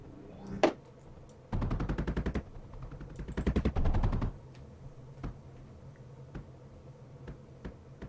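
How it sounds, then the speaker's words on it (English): Turret guns fire in the video game Mindustry: two dense rapid-fire bursts, each lasting about a second, surrounded by a few scattered single shots against a quiet background. "Yeah, it's guns."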